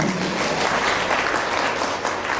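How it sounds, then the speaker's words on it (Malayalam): A crowd at a Bible convention in Anakkara-Kumily breaks into sustained applause, a dense, even wash of clapping from a large audience filling the hall. "കണ്ടോ, കയ്യടി ഉയരുന്നു."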